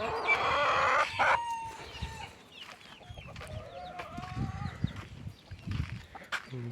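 A rooster crows loudly up close, followed by chickens clucking and murmuring nearby in an uneven, busy chorus.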